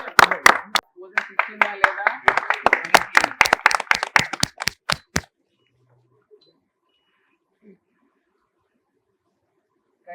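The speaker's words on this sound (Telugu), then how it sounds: "Big claps." An audience claps in a burst of sharp, rapid hand claps lasting about five seconds, with talk mixed in, then the room falls almost silent.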